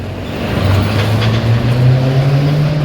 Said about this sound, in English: Lots of scooters around,